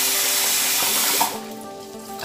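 Tap water runs loudly into a pot of rice for washing, a steady broad rush that eases and quietens partway through as the pot fills.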